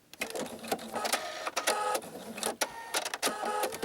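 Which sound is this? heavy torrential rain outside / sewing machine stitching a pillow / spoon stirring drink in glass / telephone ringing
sewing machine stitching a pillow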